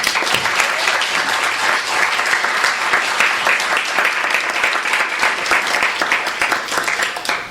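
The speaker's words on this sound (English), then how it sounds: "Let's please give a warm round of applause to Ben Ehrenreich." An audience at Skylight bookstore gives author Ben Ehrenreich a warm welcome with steady, dense applause that holds at full strength throughout and fades slightly at the very end.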